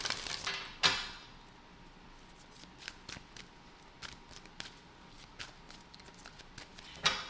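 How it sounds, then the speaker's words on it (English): Oracle cards being shuffled in a few quick bursts, soft crisp riffles and taps close by, with small clicks spaced through a mostly quiet stretch. "So let's give this 3 quick shuffles,"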